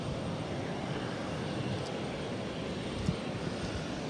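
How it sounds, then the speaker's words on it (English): A JetBlue Embraer E190 jet taxis toward a gate at Boston's airport, a steady, distant engine whine and rumble with a faint brief thump near the end. "And this JetBlue E190 actually pulling into the gate that Rudy and I pulled into."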